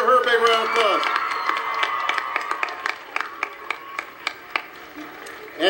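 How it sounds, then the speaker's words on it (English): Audience applause for astronaut Mae Jemison at a White House star party: a close, steady wash of clapping with sharp individual claps that thins and grows sparser as it goes. "Give her a big round of applause."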